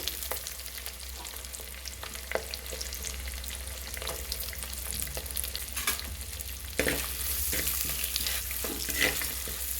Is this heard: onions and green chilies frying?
yes